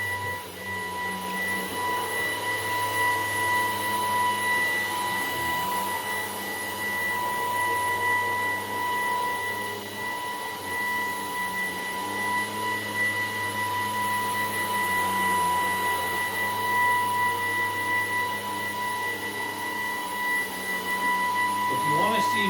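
Maircle S3 Pro robot vacuum cleaning a room, a continuous motor whine with steady tonal hum and faint shifting brush noise throughout, heard close and unbroken with no speech.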